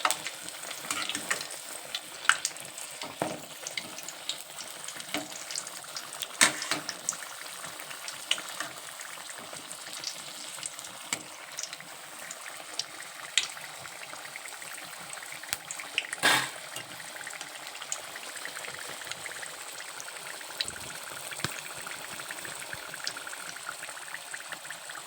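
Mirchi bajji, batter-coated green chillies, deep-frying in hot oil in a home kitchen, giving a steady close crackle and bubbling sizzle with scattered sharper pops throughout, no voices over it.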